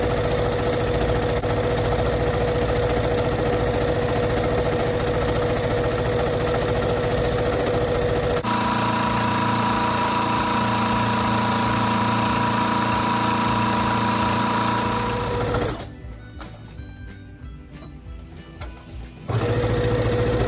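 A sewing machine stitches tulle for a ribbon-trim tutu, running with a steady loud whir for long stretches, briefly slowing and quieting near the end before resuming.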